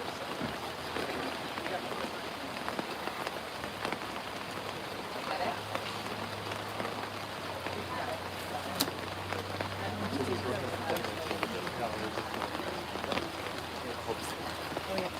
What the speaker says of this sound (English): Rain's going to stop.